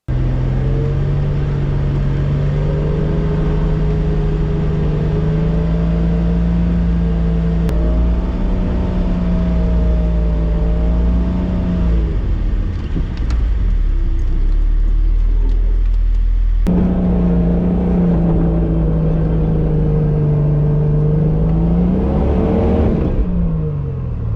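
An off-road vehicle revs hard, climbing a snowy hill on Colorado's Rimrocker Trail, its engine droning loud and steady with rising pitch, a brief dip in the middle, then surging again near the end.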